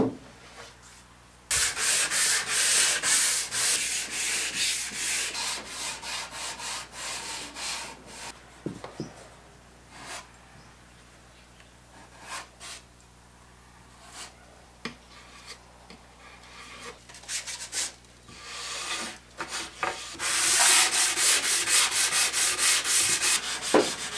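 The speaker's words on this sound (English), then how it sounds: "So that's everything prepped and sanded" Sanding of an MDF storage unit for paints and wood treatments, a steady rubbing scrape with repeated back-and-forth strokes, loud and close, easing off midway before returning at full strength, with no talking.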